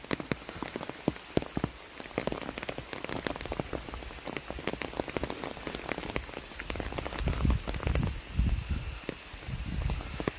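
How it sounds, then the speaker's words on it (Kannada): Steady rain falls on leaves and ground in a forest beside a lake near Mudigere, Karnataka, a dense, continuous patter of close drops with heavier splashes building toward the end, with no voices. "ಮಳೆ ಬರ್ಬೇಕಾದ್ರೆ ಯಾವ ಥರ ಕಾಣಿಸುತ್ತೆ ನೋಡೋಣ."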